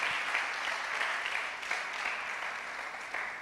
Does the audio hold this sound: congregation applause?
yes